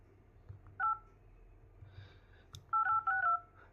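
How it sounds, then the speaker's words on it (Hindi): Touch-tone keypad beeps from an Android phone as a number is typed before calling: a short pair of tones, a pause, then a quick run of three close, clear beeps over a low room hum. "ये मैंने नंबर कोई भी टाइप कर दिया है। अब मैं यहाँ से कॉल करता हूँ।"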